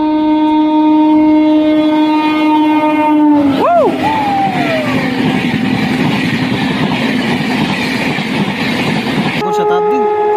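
A passenger train in India, the Godda Express from Delhi to Prayagraj, running steadily while other express trains overtake it; a loud horn blares close by amid constant rail rumble and wheel clatter.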